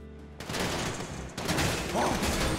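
Dense rapid gunfire from a crew battling police beside a getaway car in Grand Theft Auto V, a continuous roar of overlapping shots that briefly drops out and resumes, loud and without speech.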